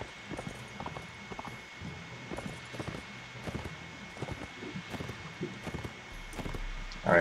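Horses clip-clop across the ground in a Mount & Blade: Warband battle, with repeated hoofbeat thuds in a loose rhythm over faint wind and a steady high tone.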